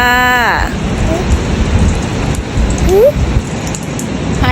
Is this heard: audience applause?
no